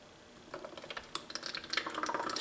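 Thick homemade ketchup steak sauce is poured slowly, giving soft irregular wet glugs and drips that grow busier toward the end, close and fairly quiet.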